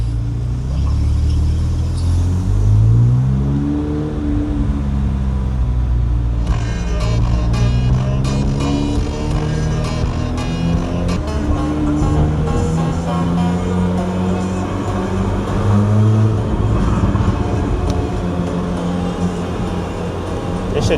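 A C8 Corvette Z06 drives along, its engine rising and falling in pitch as it revs up through several pulls, loud and close over a constant low road rumble, with faint talk at moments.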